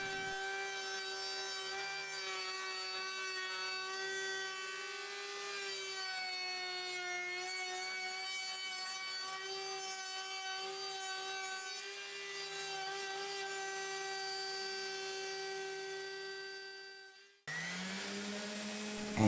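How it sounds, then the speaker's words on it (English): An electric sander rounds over the corners and edges of a cedar gift box, a steady droning whine with strong tonal hum running unbroken for about seventeen seconds before cutting off sharply, followed by a short burst of rougher sound. "using the sander to round over the box corners"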